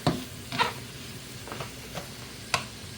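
Vegetables and onions frying in a pan, with a soft sizzle beneath a few separate scrapes and clinks of stirring spaced about half a second to a second apart, close and fairly quiet.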